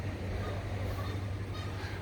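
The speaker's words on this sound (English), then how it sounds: "What was that? The Canadian geese?" Canada geese honk faintly in the distance outdoors, their calls set over a low, constant background hum with no one speaking.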